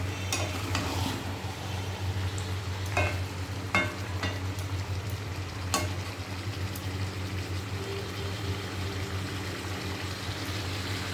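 Chicken sautéing slowly over low heat in a pan, a steady soft sizzle with occasional scraping stirs and clicks, fairly quiet and without talk.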